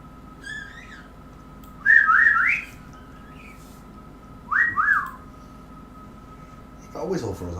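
A person whistles two short upward-sliding phrases a few seconds apart, clear and fairly close, over a low steady indoor hum, with a brief voice speaking at the very end.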